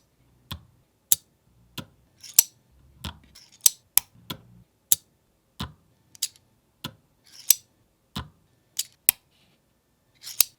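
Magnets snap and click on a Wolftooth 8-Bit Pack Pliers bike multi-tool: a steady series of crisp, close metallic clicks, roughly one each half second, with faint handling noise between them and no talking.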